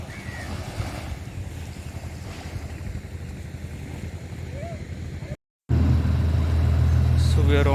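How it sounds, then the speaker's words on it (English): Car ferry crossing on a coastal route carrying loaded vehicles, with steady low engine rumble and wind noise throughout, a brief dropout, then a louder, heavier drone of the vessel's engine close by. "So we are on to the second ferry of the day, loaded."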